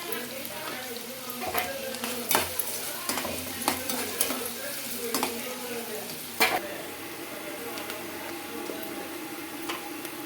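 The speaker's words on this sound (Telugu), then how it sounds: "ఉల్లిపాయలు పచ్చిమిర్చి బాగా వేగాలండి" Salted onions and green chillies frying in a pan: a continuous near sizzle with sharp, irregular spatula knocks against the pan.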